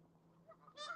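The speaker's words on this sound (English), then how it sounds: "I'm about to get murdered by some of these geese" Geese honk during nesting season beside water, a low murmur building into loud nasal honks near the end of the short stretch, with no voices.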